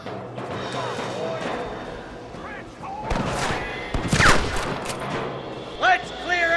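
Gunfire in the Red Dead Redemption shootout at Pike's Basin, sharp cracks and bursts of shots at varying distance mixed with game voices and background ambience.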